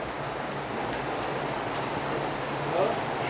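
Steady rain falls on a surface nearby while a fish curry cooks on a stove, a soft continuous patter with no breaks throughout.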